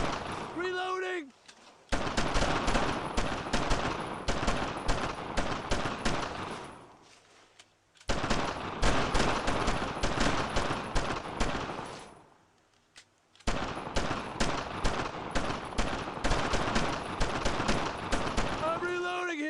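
Dense bursts of rapid automatic gunfire in a WWII shooter, Brothers in Arms, loud and sustained in three long volleys separated by short pauses, with shouted voices mixed in.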